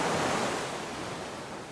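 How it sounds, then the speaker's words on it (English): Steady broadband wash of ocean surf rolling onto a beach, a continuous close hiss with no distinct breaks and no voices. "Let the ocean tide take all of your stress away."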